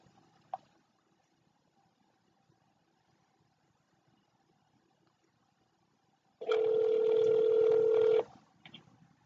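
A telephone call is placed on speakerphone. Faint background hum gives way to a single short beep, then a loud steady dialing tone lasts nearly two seconds and breaks off into brief fainter sounds.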